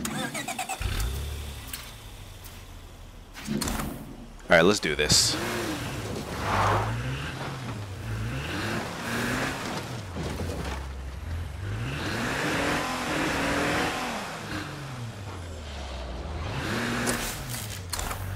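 A car engine in the zombie survival game State of Decay 2 starts up and drives off, its motor droning and revving steadily for most of the stretch, loud and up front, with someone talking briefly near the start.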